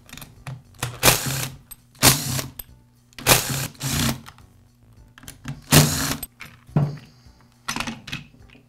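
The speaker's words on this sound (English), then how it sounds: "Next, I'll remove the starter assembly." Parts of a Poulan chainsaw's starter assembly are worked loose by hand: a string of sharp plastic clicks, rattles and clattering knocks comes in bursts of about a second each, close by and with no voices.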